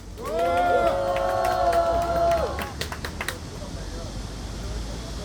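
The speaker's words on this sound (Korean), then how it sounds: "큰 박수 부탁드리겠습니다." A crowd at an outdoor press conference against the Saemangeum airport breaks into scattered, sparse clapping after a voice speaks over a loudspeaker.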